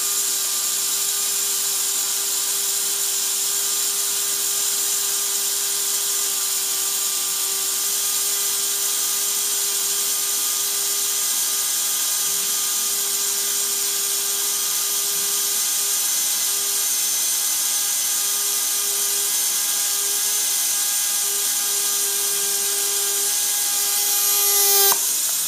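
A Tamiya Mini 4WD electric motor spins freely at very high speed in a homemade RPM checker, giving a steady, loud, high-pitched whine that holds constant for about 25 seconds and rises slightly at the very end.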